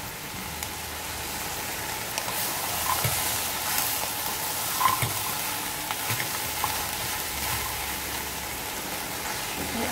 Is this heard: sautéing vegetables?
yes